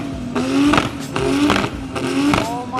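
Cars at a meet rev their engines on 2-step launch control, with several loud, rhythmic bursts of popping, crackling exhaust rising and falling close by.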